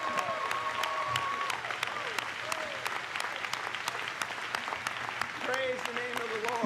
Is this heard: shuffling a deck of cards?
no